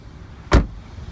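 A 2014 Kia Rio's power lock or window actuator gives a single short mechanical thunk over a faint low background hum inside the car.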